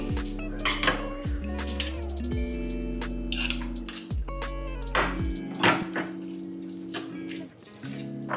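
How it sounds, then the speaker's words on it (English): Tuna, Kalamata olives, celery and mayo being mixed in a bowl, with spoon clinks and scraping against the dish, busy and close, with a few thunks and no talk. "I'm going to just mix everything in a bowl here"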